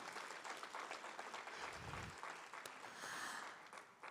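Applause from a teachers' union conference audience at an opening ceremony in Bermuda, a steady crackle of clapping lasting a few seconds, fairly distant and moderately quiet in a reverberant hall.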